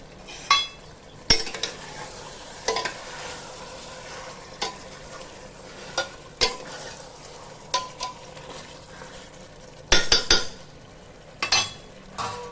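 Marinated chicken cooking in a pot for chicken dum biryani: a low, continuous sizzle broken by a series of sharp metal scrapes and clinks as a utensil stirs against the pot, close up and without speech.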